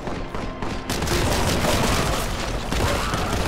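Sustained gunfire rains down on the player in a video game, a dense, loud barrage of rapid shots and booms that kicks in after a brief quieter opening and continues without pause.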